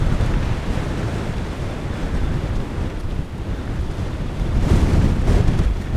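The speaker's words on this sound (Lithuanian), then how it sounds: "vėjas nuo vandenyno" Strong wind blowing in off the ocean, a steady roaring rush buffeting the microphone with rumbling gusts that swell louder toward the end, surf faintly mixed in, no voices.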